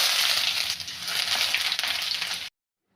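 Chopped fresh ginger dropped into hot oil for mango pickle, a loud, bright sizzle hissing steadily close by for a couple of seconds, then cutting off abruptly to silence.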